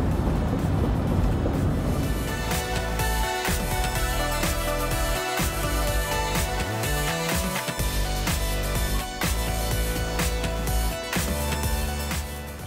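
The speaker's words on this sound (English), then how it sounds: "sorry if this is really bumpy because we're driving and it's kind of hard to hold it steady" A car drives along a bumpy road, heard from inside the cabin, with a loud continuous engine and road rumble broken by irregular knocks and jolts from the rough surface.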